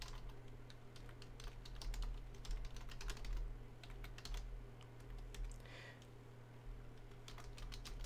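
Rapid, irregular clatter of typing on a computer keyboard, close and fairly quiet, with keystrokes in bursts over a steady low background hum and no talking.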